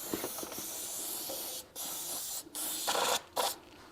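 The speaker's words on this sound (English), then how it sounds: "I'm going to spray that off." Aerosol cleaner spraying dirt off a lawn mower engine: a steady close hiss, broken by short gaps into several bursts toward the end.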